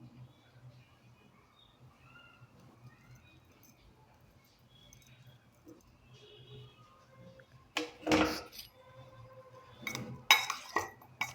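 Sweet potato chaat being tossed with spices in a bowl, quiet at first, then bursts of clinking and scraping from a spoon against the bowl near the end.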